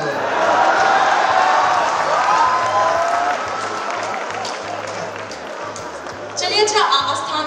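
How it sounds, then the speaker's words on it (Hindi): Audience at a Hindi poetry recital breaking into loud, sustained clapping that gradually thins and fades, then picks up again briefly near the end, with a voice speaking over the applause. "आप लोग भी ताली वाली बजाएंगे तो बाकी जनता प्रोटोकॉल में ही बजा लेगी"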